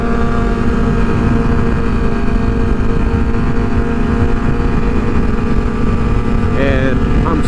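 A steady, loud, close motorcycle engine drone, either a Kawasaki Ninja 650 or ZX-6R, running continuously at an even pace with a slight pitch shift near the end.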